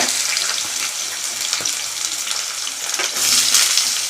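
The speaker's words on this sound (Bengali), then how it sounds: "আর সবজিগুলো দিয়ে দিই" Vegetables tossed into a hot pan sizzle loudly and continuously, with stirring scrapes and crackle close by, swelling louder toward the end; no voices are heard.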